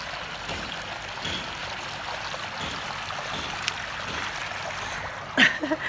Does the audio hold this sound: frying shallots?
no